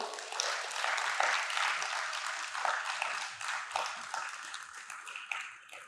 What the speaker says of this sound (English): I believe that the teams deserve another round of applause.